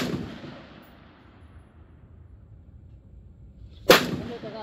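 A single sharp .308 gunshot from a Ruger SFAR rifle cracks out near the end, following a quiet stretch with a decaying rumble at the start, loud and close with a brief echoing tail.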